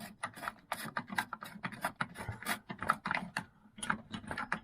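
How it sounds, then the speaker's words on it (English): A nut on a Vaillant EcoTec boiler is tightened during a diverter valve replacement, producing close, rapid metallic ratcheting clicks in uneven bursts with short pauses between them. "I'm going to tighten up this nut back right in the back now to get this tight again"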